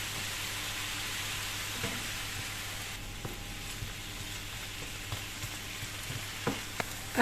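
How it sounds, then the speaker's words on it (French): Cooked meat and mushrooms fry in a pan with a steady close sizzle, broken by a few soft clicks of a utensil stirring near the end. "J'ajoute la viande qui était cuite."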